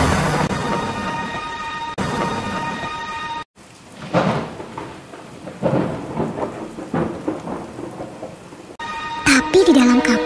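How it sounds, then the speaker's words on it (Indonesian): Heavy rain pours down steadily while thunder rumbles and cracks through it, loud and close, with a brief drop-out partway before the downpour resumes. "Hujan turun sangat deras, sampai air menutupi ladang-ladang."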